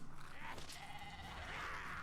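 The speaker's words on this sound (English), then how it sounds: "Hey sheep, you're the one that died." A sheep bleats in the video game Divinity: Original Sin II, a single wavering cry over soft, steady game background noise.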